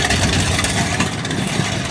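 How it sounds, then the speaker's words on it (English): Boat motor running out on the water, a steady loud engine drone with broadband wash and spray noise throughout, no clear throttle swell. "Motor. Louder when you hit the gas."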